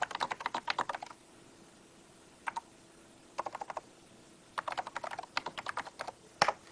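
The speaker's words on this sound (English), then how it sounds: "and I can type." Typing on a NeXT computer keyboard running NeXTSTEP Release 3, heard as close, crisp bursts of rapid keystrokes separated by short pauses, with a final sharp key press, and no talking.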